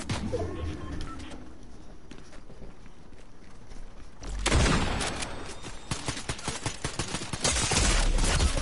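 Rapid gunfire bursts from a video game shootout, with dense crackling volleys erupting midway and continuing loudly to the end over a busy background.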